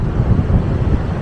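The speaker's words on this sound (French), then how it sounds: "il y a toujours autant de vent" Strong wind at Sidi Ifni, Morocco, buffeting the microphone as a loud, continuous low rumble throughout, with no talking.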